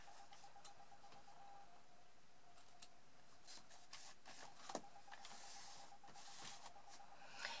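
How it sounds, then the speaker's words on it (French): Scissors snip through ribbon ends on paper gift tags, a handful of quiet, sharp cuts scattered over a faint hiss in a still room. "je vais le découper de façon à former un joli V avec les deux pans."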